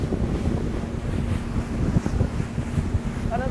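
Sirena 48 motor yacht cruising at sea at about 10 to 12 knots, with a steady rush of wind buffeting the microphone over hull and wave noise and a low engine drone, with no talking.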